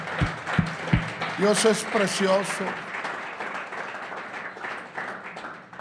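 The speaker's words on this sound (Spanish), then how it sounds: "¿Quiere darle un aplauso al Rey de Reyes y Señor de Señores?" A church congregation applauds at a Spanish-language sermon, a few sharp claps at first that build into sustained clapping, while a voice speaks over the start.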